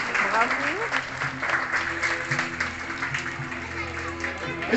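Spectators at an outdoor bird of prey show applaud for a vulture, steady clapping from a crowd mixed with chatter and a speaking voice over it throughout.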